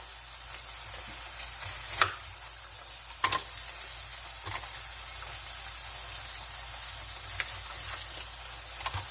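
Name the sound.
chuck roast chunks searing in a pan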